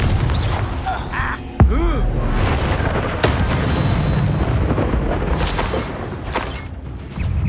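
Confringo fire-blast spells cast during Hogwarts Legacy combat, with rumbling bursts and booms over a busy roar of battle, including a sharp impact partway through, while characters speak over the action.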